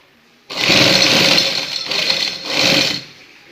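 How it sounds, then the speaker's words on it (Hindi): An electric sewing machine runs in three close, loud bursts of whirring stitching, separated by short pauses, while sewing a decorative design on a trouser hem. "वो आप पट्टी के ऊपर रख के अंदर सिलाई करना शुरू करें"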